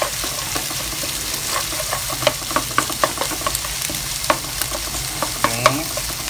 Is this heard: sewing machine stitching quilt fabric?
no